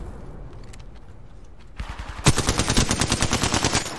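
A couple of distant shots in the video game Apex Legends, then a sudden close burst of rapid automatic gunfire, sharp evenly spaced cracks, loud and continuous.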